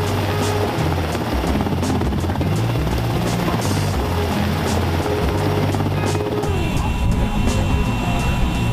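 A military medevac helicopter dominates throughout during an army training exercise in Finland, with steady loud rotor thumping and engine whine, close and continuous with no voices.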